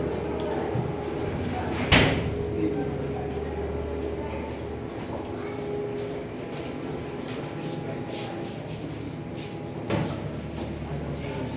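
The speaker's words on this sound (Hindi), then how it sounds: "दरवाजा पूरा बंद करके आओ।" A classroom door is pushed shut with a dull thud near the start and another softer knock later, both set against steady room hum and faint background murmur.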